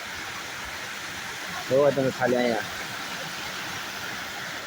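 Water flows steadily at the Statue of Unity in Kevadia, a constant broad rushing wash that runs throughout while a person speaks briefly over it.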